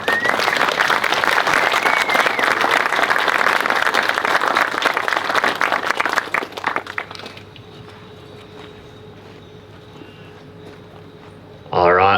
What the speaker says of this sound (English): Round of applause for his beautiful vows.